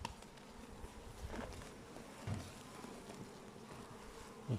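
Bees at a hive hum in a low, continuous drone, with a few louder buzzes passing close by over the steady background murmur.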